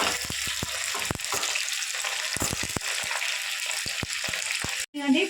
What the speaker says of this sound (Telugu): ఒక ఉల్లిపాయ చిన్నది ఒక ఐదారు ఎల్లిపాయ రెబ్బలు ఫ్రై చేసుకుందాం బాగా